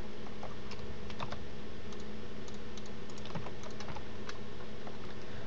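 Keys on a computer keyboard are pressed for editing shortcuts, giving scattered sharp clicks and taps over a steady low hum, with no talking.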